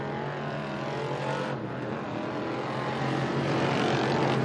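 Race cars run hot laps on the Accord Speedway short track. A steady, loud engine roar fills the whole stretch, with no break in it.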